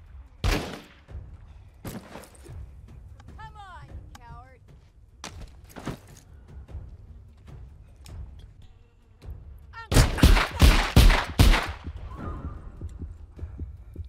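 Gunshots in The Walking Dead: Saints & Sinners: scattered sharp thuds and a dense burst of loud shots near the end, with someone talking between them.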